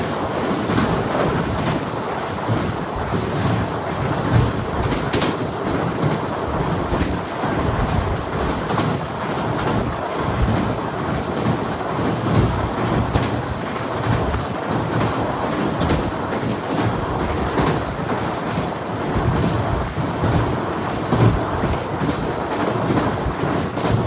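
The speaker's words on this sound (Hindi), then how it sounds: "अपनी ट्रेन सोन रिवर को क्रॉस कर रही है" Amrit Bharat Express train crossing the Son River bridge at night, a loud continuous rumbling roar with wind buffeting, steady throughout with no voices.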